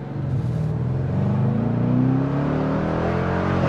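A 2022 Dodge Challenger with the Shaker package revs hard up close, a loud rising engine roar with a deep throaty rumble that climbs and holds for a few seconds.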